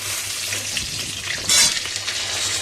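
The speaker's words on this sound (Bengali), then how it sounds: "এই যাতে আলুটা ভালো ভালো করে ভাজা হয়ে যায়" Oil sizzling steadily in a pan as food fries, with a brief louder hiss partway through, close and continuous.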